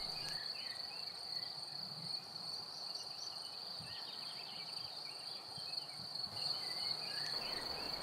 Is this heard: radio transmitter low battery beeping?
no